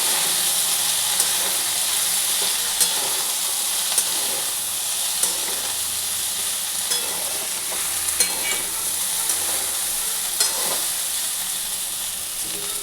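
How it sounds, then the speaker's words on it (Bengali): Potatoes and cauliflower fry in a pan with poppy seeds, giving a steady bright sizzle and hiss throughout, punctuated by regular light taps and scrapes from stirring, with no voices. "ফুলকপি আলুটা ভাজা হয়ে গেছে। এবার পোস্তটা আমি এতে দিয়ে দেবো।"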